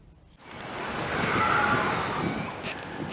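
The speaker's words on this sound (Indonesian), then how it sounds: "Angin kencang disertai hujan melanda Merauke beberapa hari terakhir." Strong wind with rain sweeping through Merauke, a broad, roaring rush of noise that swells and stays steady, buffeting close to the microphone with no voices.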